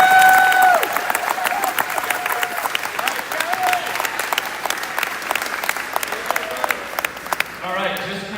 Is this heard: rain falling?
no